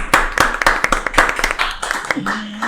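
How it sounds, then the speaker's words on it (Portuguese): A small group clapping for a teacher of English at a school, a few distinct, uneven claps at close range with speech overlapping near the end. "Uma salva de palmas para a Giovana."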